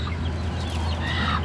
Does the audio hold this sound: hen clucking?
yes